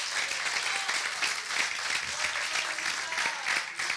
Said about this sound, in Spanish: Un aplauso a Dios de alabanza.